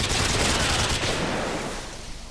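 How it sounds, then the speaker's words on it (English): Dense, continuous automatic gunfire rattles on the Derail map of a video game shooter, loud and close at first, then thinning and fading toward the end. "They have plenty of gunfire"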